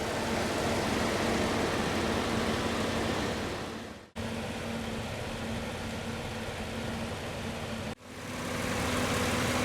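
Steady, even hum of a 2018 GMC Canyon's 3.6 liter V6 engine idling, heard close up, with two brief cuts breaking the constant drone.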